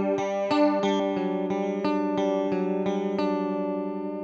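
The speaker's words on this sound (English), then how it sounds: "on the Corona chorus, you actually have the option of killing the dry signal. Okay. So if you play something now, you can turn it into a vibrato." Guitar arpeggio played through a Corona chorus pedal set as vibrato with the dry signal off, a steady run of plucked notes with a warm wavering pitch, clear and close.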